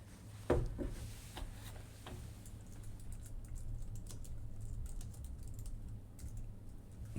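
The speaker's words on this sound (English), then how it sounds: "It's hard to type on this keyboard in this awkward position." Typing on a computer keyboard from an awkward position, a steady patter of soft key clicks continuing for several seconds with a low hum underneath and no talking.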